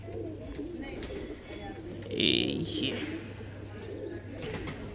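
Pigeons in a loft in Allahabad coo softly and steadily throughout, with someone talking over them.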